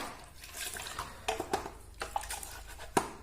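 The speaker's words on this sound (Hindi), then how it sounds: "और अब पानी से इसको रिंस करते हैं, इसको धोते हैं" A kitchen grater is rinsed under water, giving a mix of splashing, trickling and dripping with sharp metallic clinks and knocks, moderately close.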